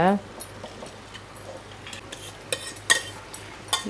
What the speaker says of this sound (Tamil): இப்போ ஒரு கரண்டி பருப்பை கொஞ்சம் லைட்டாக மசிச்சு விட்டுக்கிட்டேன்.